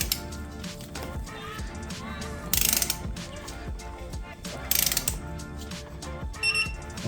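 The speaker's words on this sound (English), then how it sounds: "we can torque this side to 88 Newton meters. So torque wrench is set to 88." A torque wrench ratchets as it tightens the front wheel axle of a motocross bike to 88 newton metres, giving a close run of metallic clicks with a few sharper bright snaps near the end.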